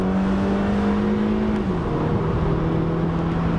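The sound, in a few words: NC Mazda Miata engine accelerating through a corner in second gear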